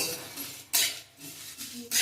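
Spices dry-frying over low heat in a pan for a sour-spicy green mango pickle, a spoon stirring and scraping in several bright, metallic bursts separated by quieter gaps.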